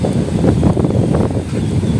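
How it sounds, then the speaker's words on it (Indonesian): Strong wind blowing across a boat harbour near a shipyard, a steady broadband rush with low rumble that stays loud and constant throughout, with no talk. "angin yang kencang"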